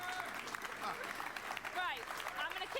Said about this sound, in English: I'm going to ask you for another round of applause